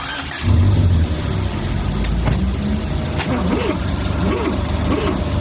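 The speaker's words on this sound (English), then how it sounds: "That sounds like all four cylinders have lovely even compression in all seriousness." An old retro Italian camper with a four-cylinder engine and an exhaust leak cranks and fires, then settles into a steady, close, rumbling idle with a few light revs.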